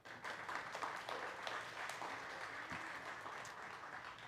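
An audience in a gathering applauds, a dense sustained patter of many hands clapping at moderate volume for several seconds, steady and fairly even throughout.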